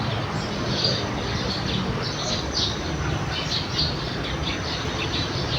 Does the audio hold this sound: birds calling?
yes